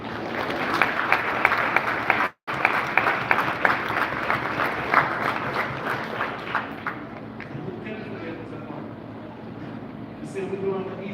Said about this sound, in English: give yourself a round of applause again just for being royal